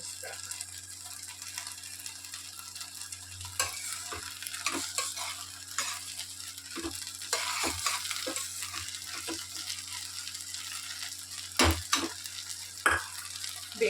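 A ghee rice base fries and is stirred in a pan until the oil rises, a quiet steady sizzle broken by irregular spoon scrapes and clinks, with faint talk in the background.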